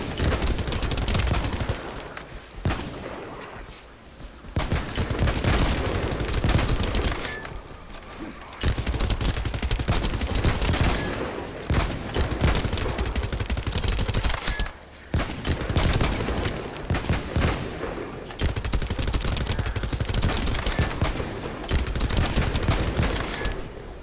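Heavy sustained gunfire in the shooter game The First Descendant, long loud bursts of rapid shots broken by a few short pauses, with faint talk underneath at times.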